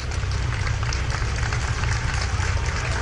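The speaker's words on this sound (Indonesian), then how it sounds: "Diiringi dengan tepuk tangan dari masyarakat yang menyaksikan prosesi pemakaman ini." Crowd of onlookers applauding along the route of Pope Francis's funeral procession to the Basilica of Santa Maria Maggiore, a steady dense wash of clapping and crowd noise throughout, with no clear individual voices.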